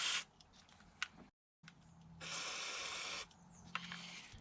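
Electrical contact cleaner sprayed onto an eccentric shaft sensor on a BMW E87 130i N52 engine during a valve cover gasket job: two short hissing aerosol bursts, the longer one a steady close spray lasting about a second, between quiet handling noises.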